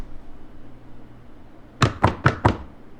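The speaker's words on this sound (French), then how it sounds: "Toc toc toc." Four evenly spaced knocks on a door in a video game ring out sharply and close after a stretch of quiet background hum.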